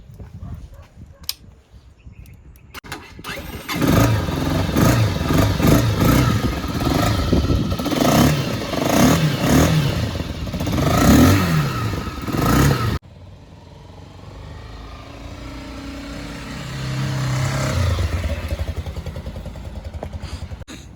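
A 2024 Challenge GT 250 motorcycle with a 250 cc engine starts up nearby and idles loudly with rhythmic revving, then cuts out; a dog barks in the background.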